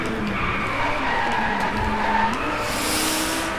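Lamborghini Gallardo LP 570-4 Squadra Corse tires skidding in the Driveclub racing game, a sustained loud screech over a steady engine drone, the engine note rising near the end.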